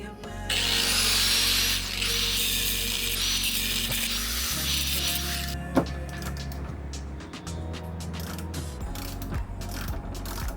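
A nut being removed with a power tool during a Boston Whaler 13 steering restoration. It gives a loud, sustained mechanical whirring and ratcheting that later turns into irregular clicks and rattles, close up and with no talk.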